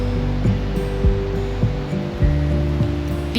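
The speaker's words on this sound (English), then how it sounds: "visit the Athabasca Falls, one of the most famous waterfalls on this route" Steady, loud roar of rushing water from Athabasca Falls in the Canadian Rockies filling the whole clip, a continuous broadband wash with low rumbling tones underneath.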